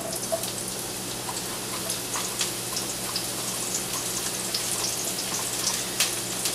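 Chopped scallions sizzle in a hot pan for a Chinese tomato and egg stir fry, a steady crackling hiss with scattered pops, close and alone without talk.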